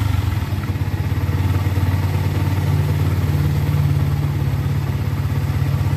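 A Yamaha MX King motorcycle engine idles steadily nearby with a low, even putter and light mechanical clatter throughout.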